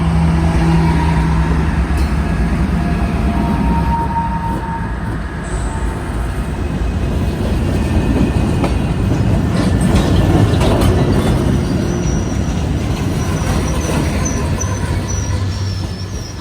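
Model train running on a layout, a continuous loud rumble and rolling drone that holds steady throughout, with faint higher squeals and clicks over it and no voices.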